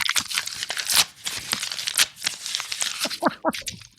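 Paper is torn and crumpled in quick repeated rips and crinkles, close and fairly loud, with brief pauses between bursts and no talking.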